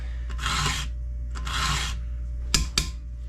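Rasp strokes across a horse's teeth: two long gritty scraping swipes followed by two short sharp scrapes, close and clear over a low steady hum.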